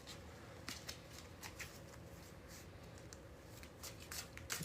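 Tarot cards being shuffled by hand produce soft, repeated riffling and tapping bursts at an irregular rhythm, quiet and close with a faint background hum.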